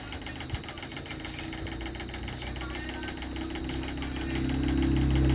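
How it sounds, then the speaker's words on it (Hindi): A sewing machine stitches through folded fabric at a blouse neckline, a continuous close motorized whir with a rapid needle rhythm that grows louder and heavier toward the end, no voices. "अभी उसको पीछे की तरफ फोल्ड करते हुए और एक सिलाई कर दूंगी।"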